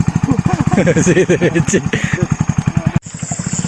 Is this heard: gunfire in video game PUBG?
no